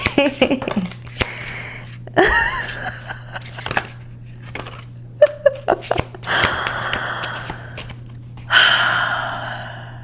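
Tarot cards shuffled by hand in quick riffling and sliding bursts. Breathy gasps and talk come between the bursts.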